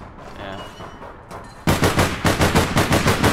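Gunfire from the online game APB Reloaded comes first as faint distant shots, then a loud close automatic burst of about a dozen evenly spaced rounds.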